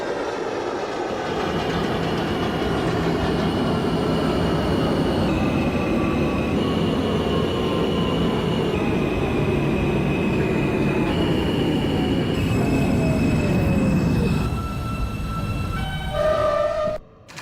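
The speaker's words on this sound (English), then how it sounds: "This is a Bay Ridge 95th Street bound R local train." An R160 subway train runs as an R local to Bay Ridge-95th Street in the OpenBVE simulator: a continuous loud rumble of wheels and traction motors with rising and falling motor whine, then it slows with squeal and ends abruptly.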